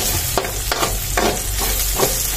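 Corned beef fries with onion and garlic in a pan, giving a loud, close, continuous sizzle broken by about five evenly spaced stirring scrapes, with no voices.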